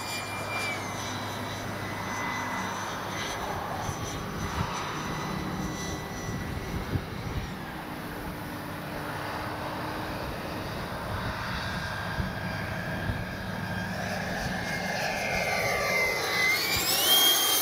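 A Durafly Vampire V3 radio-controlled jet flies overhead with a continuous electric ducted-fan whine, fairly steady and growing louder near the end as it passes closer.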